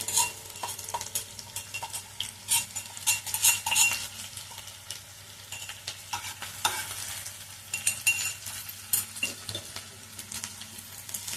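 Garlic-ginger paste frying in a pan, sizzling steadily while a spoon stirs and scrapes in irregular bursts, with a low hum underneath.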